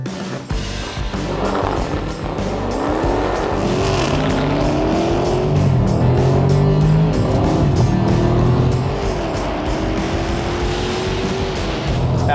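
Dodge Challenger engine revving and pulling through manually shifted gears, with pitch rising and dropping at each change, a loud steady drone close up for the whole stretch.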